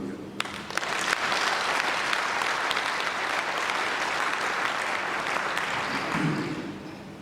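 Sustained applause from a large crowd, dense and steady clapping throughout, with a faint murmur underneath.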